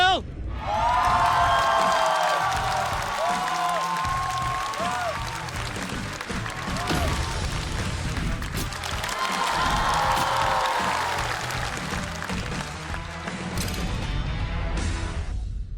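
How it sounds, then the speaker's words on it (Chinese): A studio audience at a stand-up comedy show bursts into sustained applause and cheering to welcome two competing teams, a loud continuous wash of clapping with whoops and music, swelling again midway, with a host's voice over it. "掌声有请"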